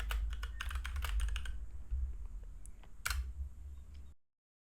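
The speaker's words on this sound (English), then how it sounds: "let's just type in a prompt to say that we want to create a to-do list app." Typing on a computer keyboard while entering a prompt, a quick close run of crisp clattering keystrokes, a brief pause, then a few more taps, alone without speech.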